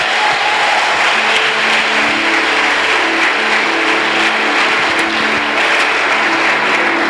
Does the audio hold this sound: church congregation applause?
yes